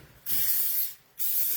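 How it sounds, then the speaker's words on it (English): Cooking spray hisses onto a pan for potstickers in two bursts, the first longer and the second following after a short pause, close and alone. "Okay, got that spray going on."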